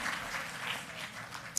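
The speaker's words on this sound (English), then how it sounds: "can we get a better round of applause than that for our moderators, please?" A crowd at an awards ceremony applauds steadily, a dense wash of clapping that holds at an even level throughout, with no talking over it.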